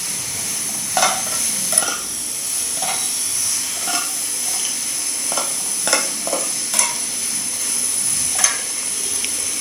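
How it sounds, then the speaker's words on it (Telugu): Ridge gourd chutney mixture is stirred in a pan over a medium flame, with a spoon scraping the pan at irregular intervals over a steady, close frying sizzle. No one speaks. "మిక్సర్ మొత్తాన్ని కూడా మీడియం ఫ్లేమ్లో ఉంచి బాగా కలుపుకోవాలి"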